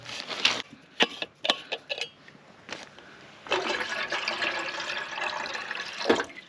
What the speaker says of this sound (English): Let me get a little more water.